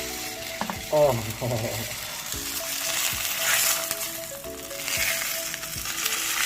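Homemade Sindhi-style beef burger patty frying in oil in a pan, giving a steady, close hiss of sizzling with a few utensil scrapes and a brief spoken exclamation near the start.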